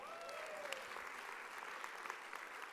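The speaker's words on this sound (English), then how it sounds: "You guys give her a round of applause" An audience at a Rotary District 6380 conference keynote claps in a steady patter of applause, somewhat distant and fairly quiet, holding evenly throughout with a few sharper claps.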